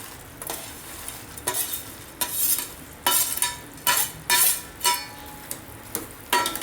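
Sweet boondi being cooked and stirred in bubbling sugar syrup in a pan, with a constant sizzle and repeated scraping stirs in uneven bursts, close up and with no talking.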